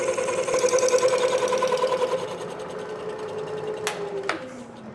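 A machine bores out Triumph triple trees to fit a Harley-Davidson. It runs with a steady, rapid whirring drone, loud and close, then winds down as its pitch falls.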